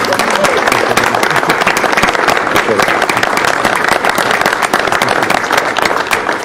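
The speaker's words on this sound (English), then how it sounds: "if you all rise and join me in a round of applause for Andy" Loud, sustained applause from people rising at a county board business meeting to honor a colleague of 20 years, dense clapping filling the room without pause.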